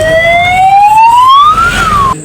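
An ambulance siren wails loudly and close by in a crowded area, one long rising tone that peaks and then starts to fall before cutting off, with no talk over it.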